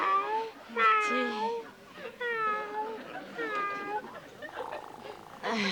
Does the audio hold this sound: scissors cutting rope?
no